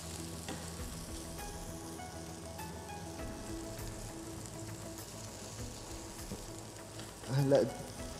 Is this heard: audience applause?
no